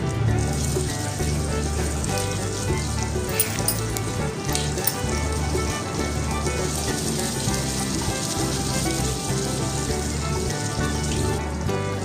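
Dried chillies and chopped onions fry in a pan for ladies finger poriyal, giving a steady close sizzle with crackling pops throughout and no voices.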